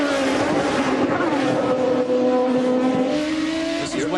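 An IndyCar race car accelerating hard out of turn 11 at Watkins Glen on the final lap, its engine a loud, sustained high-pitched scream with rising pitch, steady and close throughout.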